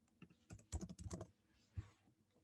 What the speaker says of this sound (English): I accidentally started typing in the chat